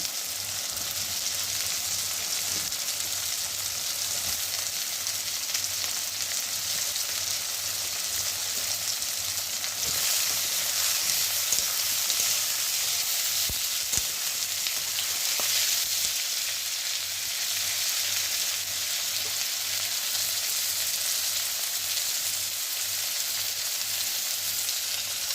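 Thin-sliced potatoes fry in hot oil with nigella seeds and onion, giving a steady, dense sizzle that stays loud and even for the whole stretch, with a few faint stirring scrapes and no voices.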